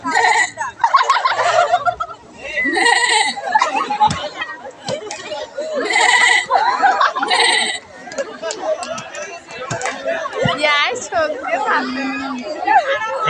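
A person imitates a goat's bleat several times, wavering cries mixed with chatter and laughter from others nearby.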